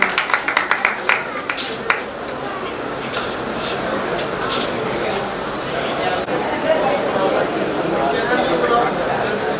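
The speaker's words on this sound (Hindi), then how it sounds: "अपने स्थान से तालियों के माध्यम से भी अभिनंदन करें" At a Jain Bagherwal community women's wing gathering in Kota, an audience bursts into a brief run of welcoming claps, then settles into a steady murmur of crowd chatter and talk.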